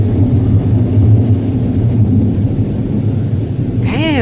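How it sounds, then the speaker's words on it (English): Deep, sustained rumble of thunder during a severe summer thunderstorm in Newburg, Pennsylvania, rolling on loudly for several seconds before a voice briefly speaks near the end. "Damn, that fucking thunder"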